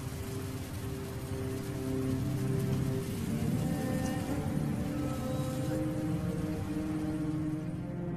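Heavy downpour at the start of the rainy season, a continuous dense hiss of rain drumming on surfaces, loud and steady throughout with a low rumbling undertone.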